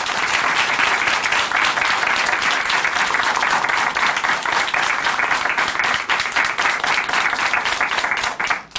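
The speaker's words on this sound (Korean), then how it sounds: "이금주 자매님께 다시 한번 큰 박수 보내드릴게요" Warm studio audience applause at a Korean Christian testimony program, steady continuous clapping from many hands, loud and even, fading slightly at the very end.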